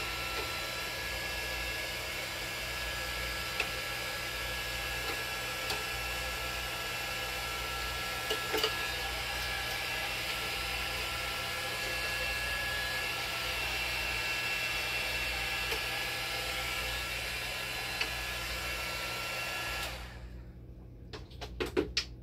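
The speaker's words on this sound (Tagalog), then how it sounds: "Natin bubugaan ng blower ngayon." An electric blower cleaning the inside of a dialysis K2 machine gives a loud, steady broadband roar for about twenty seconds, then cuts off abruptly into near silence with a few faint clicks.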